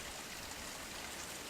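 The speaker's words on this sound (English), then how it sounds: "It is the waterfall." A waterfall heard from a hiking trail gives a steady, even hiss of rushing water, distant and soft, with no voices over it.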